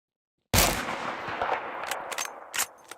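Barrett sniper rifle shots in the video game Kuboom, opening with one loud close blast after a short silence, followed by a rumbling tail and several sharper, fainter gunfire cracks in the background.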